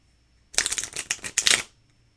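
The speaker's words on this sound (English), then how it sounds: "So I've got no qualms bridge shuffling it like this." A deck of playing cards is bridge shuffled up close: a quiet pause, then about a second of rapid, crisp riffling clicks that end abruptly, with no voices.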